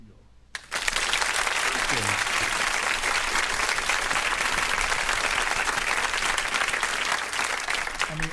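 Sustained applause from a crowd begins abruptly and continues loud and dense without pause, with a voice faintly audible at the start.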